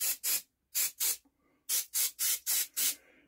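Sharp aerosol bursts of parts cleaner sprayed onto a Stuart Turner during repair hiss in quick succession, two pairs then a run of four close bursts, with brief silences between.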